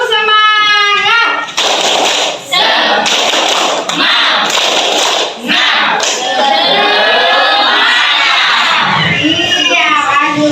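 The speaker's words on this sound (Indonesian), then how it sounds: "Oke, kita lakukan tepuk semangat ya anak-anak, semuanya ya, perhatikan." Schoolchildren in an Indonesian classroom do the tepuk semangat clapping chant: loud bursts of patterned group clapping, then voices shouting the chant together.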